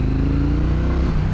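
A powerful motorcycle pulls hard in third gear, its engine a steady, loud low drone with rising harmonics that holds for about a second before easing off slightly near the end.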